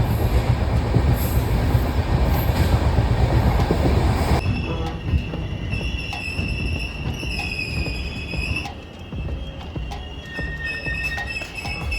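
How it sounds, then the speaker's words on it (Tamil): A train pulls away at speed on a railway journey, a loud, dense roar of wheels and carriages that thins out midway, leaving high metallic wheel squeals and rattling over a continuous rumble. "ரொம்ப ஸ்பீடாக ட்ரெயின் கிளம்பிச்சு"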